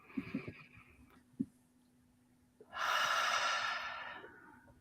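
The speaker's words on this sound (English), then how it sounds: "Deep breath in" A person takes a slow, deep breath during a guided breathing exercise, with soft sounds at first, then a long, loud airy exhale close to the microphone, with no talk.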